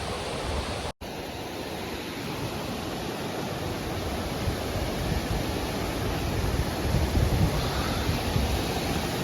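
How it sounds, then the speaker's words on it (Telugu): A waterfall at Lonavala, Maharashtra, reached after a trek, roars as a steady, dense broadband rush that fills the scene continuously, loud and close with no voices, swelling slightly toward the end after a brief cut near the start. "వచ్చేసినాం వాటర్ ఫాల్స్"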